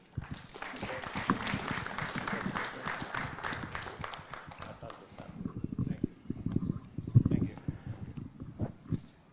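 Audience clapping at the Kenya innovation challenge and awards ceremony at State House, a dense round of applause that thins into scattered claps with a voice talking over it.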